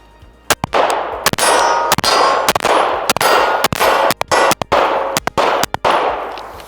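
Canik METE MC9 pistol firing a rapid string of shots at steel targets outdoors, with sharp cracks mixed with bright ringing clangs from hits that sustain between shots, loud and close, no talk.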